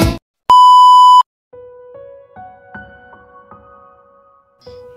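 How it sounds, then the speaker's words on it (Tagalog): A mobile phone ringtone plays as a sound effect: a sharp electronic beep burst, then a bright melodic sequence of clean synthetic tones in a quick rising and falling pattern, loud and alone. "Nagising ako dahil sa ringtone ng cellphone ko, may tumatawag."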